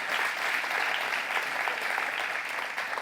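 Audience applause at an eco-activities awards ceremony, a dense steady wash of many hands clapping throughout, fairly close and even in loudness.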